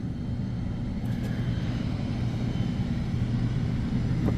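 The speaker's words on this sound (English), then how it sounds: "First time I've seen a 747 in history." A Network Aviation Boeing 747 freighter passes nearby, and its engines make a loud, steady roar that fills the whole clip. The deep rumble of the jet engines stays constant throughout, with no talking.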